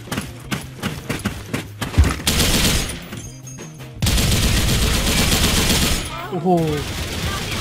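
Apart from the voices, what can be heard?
RPK74 machine gun firing in video game Special Force 2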